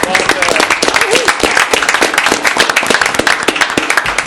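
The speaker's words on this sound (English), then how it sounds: "We'll give you another round of applause, Walter." An audience at a Bristol town council meeting applauds with a steady round of dense hand clapping, loud and close throughout.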